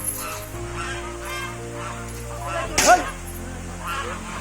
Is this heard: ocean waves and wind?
no